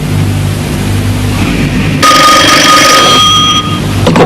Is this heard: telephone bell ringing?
yes